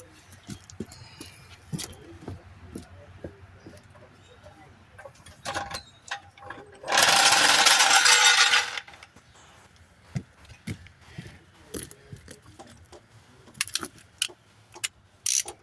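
Metallic clinks and jangles of lug nuts being handled while rims go onto a 2010 Dodge Ram 2500 pickup, irregular taps close by, a loud rushing burst in the middle, and people talking intermittently.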